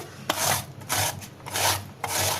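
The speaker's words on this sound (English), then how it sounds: "So like this, grate your full 1 or 2 onion." A whole onion is rubbed against a hand grater to make onion juice, giving four rhythmic rasping strokes in steady succession, close and fairly loud with no talking.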